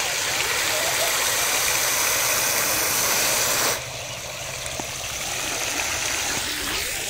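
Water fountain in Mahagama Park spraying as a steady rushing hiss, which drops away abruptly partway through, leaving quieter outdoor ambience that slowly builds again.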